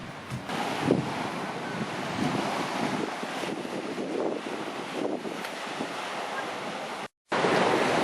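Waves wash steadily on the local beach at Agia, Skiathos, mixed with strong wind buffeting the microphone, with one brief dropout near the end.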